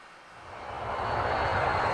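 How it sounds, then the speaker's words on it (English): Fixed-wing airplane engine droning as the plane flies off, a steady broad roar that swells over two seconds with no talk. "Thomas watched the Duke's airplane fly away."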